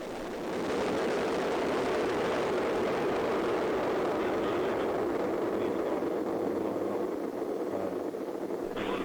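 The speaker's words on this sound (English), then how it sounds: "Engines at maximum thrust. And liftoff." Soyuz-U rocket engines thunder at liftoff of the Progress 66P resupply launch from Baikonur, a sudden onset swelling into a dense, unbroken roar that stays loud and steady.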